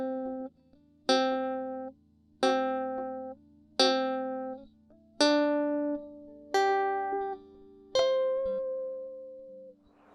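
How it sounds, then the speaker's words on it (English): Electric guitar notes sounded by finger pull-offs rather than picking, seven separate plucked tones spaced about a second apart, each decaying before the next, clean and close with a faint amp hum beneath. "With pull off, you do not have to pick a note. Instead, you need to learn how to use your finger to pull the strings like this."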